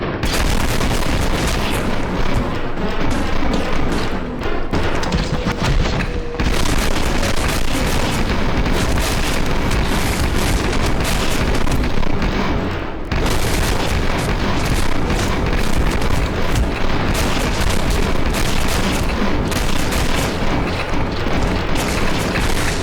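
Sustained, loud gunfire from an M60 machine gun and assault rifle in the slow-motion 80s-style shooter Maximum Action, with dense bursts and booms filling the scene and only brief dips.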